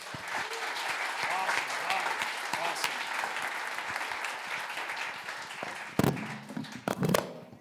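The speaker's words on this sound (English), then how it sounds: "Give Brandy another round of applause." Audience applause for a stand-up comedy set, steady dense clapping throughout with scattered cheers, and a few louder sharp claps and shouts near the end.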